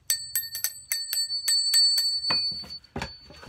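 Metal circular hole-saw bits struck in a quick series of about ten bright, bell-like rings with sustained tones, like a cowbell, followed by low thuds and rustling handling noise.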